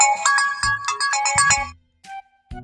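A mobile phone ringtone plays a bright, repeating electronic melody, loud and close, then cuts off abruptly, followed by brief faint sounds.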